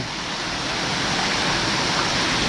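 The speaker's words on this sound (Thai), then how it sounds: "แล้น้ำตกทุ่งนาเมือง" Thung Na Mueang waterfall in Khong Chiam, Ubon, a constant loud rushing roar of falling water, close and even throughout the short stretch, with no voices over it.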